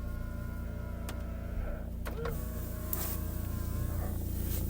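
A 2020 Citroen Berlingo van's electric window motor whirs inside the cabin over a steady diesel idle hum, with a couple of short motor runs and a soft stop near the middle.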